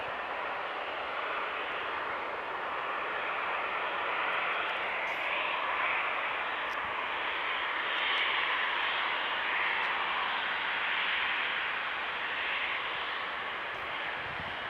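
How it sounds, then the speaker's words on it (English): An easyJet airliner arriving from Amsterdam at Manchester Airport gives a steady, broad jet roar that swells gently and fades, with no talking. "EasyJet just arriving from Amsterdam."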